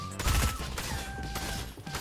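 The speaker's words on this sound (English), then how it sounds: "I'm gonna shoot at her" A rapid burst of gunfire aimed at another player in Fortnite, several loud close shots fired in quick succession over about two seconds.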